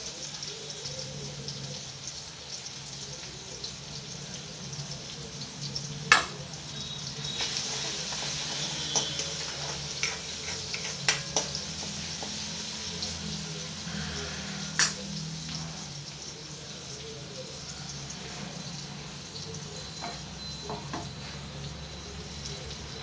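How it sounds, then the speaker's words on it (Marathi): Onion, garlic, cumin and tomato sautéing in a pan, with turmeric, red chilli powder and spice mix added, give a steady soft sizzle and crackle at close range, with occasional sharp clicks and scrapes of stirring over a low background hum. "आता आपण झाला आपला लाल कांदा, लसूण, जिरं लाल झालं, टमॅटो चांगला परतला गेला"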